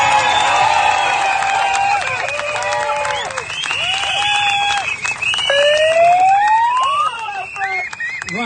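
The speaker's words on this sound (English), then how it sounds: "Give a really big round of applause for Wilfred Wong." Loud, sustained clapping from an audience fills the room, with high whistles and whoops rising and sweeping over the dense applause throughout.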